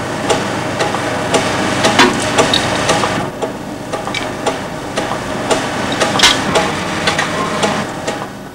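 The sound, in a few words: surface grinder running in demonstration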